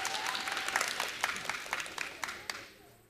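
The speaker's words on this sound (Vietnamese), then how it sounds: "Một tràng pháo tay thật lớn để cổ vũ tinh thần cho các bạn đi ạ." Studio audience applause for quiz-show contestants on a televised competition, a brisk burst of many hands clapping that fades out toward the end, with no talking.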